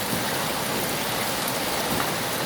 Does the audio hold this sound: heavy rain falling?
yes